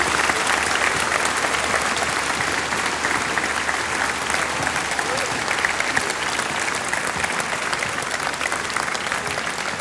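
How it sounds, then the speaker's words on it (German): Dense, continuous audience applause fills a TV folk-music show taping at the Festspielhaus in Füssen in 2005, holding an even, loud level from start to finish. "mach mal herzlichen Applaus zu unseren Gästen im Festspielhaus"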